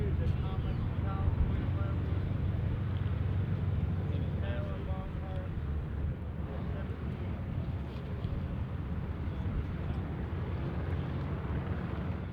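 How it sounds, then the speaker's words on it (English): A Ford Trimotor Tin Goose, powered by three Pratt & Whitney Wasp radial engines, taxis nearby as a continuous, moderately loud engine drone with wind rumble. "the Tin Goose taxied ever closer"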